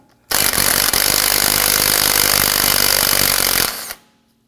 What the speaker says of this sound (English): Let's remove the 13mm nut using our socket and impact gun.